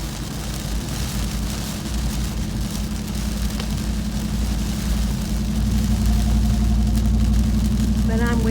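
A car drives through steadily heavier rain on busy city streets, with a continuous engine and tyre rumble under a broad wash of rain hiss that grows slightly louder near the end.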